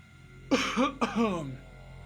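Two close, loud bursts of coughing and throat clearing from a person with a raspy throat, each a short rough rasp with a gravelly tail, separated by a brief pause.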